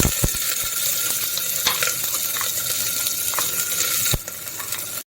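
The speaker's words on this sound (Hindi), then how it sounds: "अब मैं जीरा डालूंगी, कटी हुई प्याज डाल दूंगी" Cumin and chopped onion frying in oil in a pan, a steady hissing sizzle at moderate volume with a few sharp clicks and pops, shifting briefly near the end before stopping; no talking.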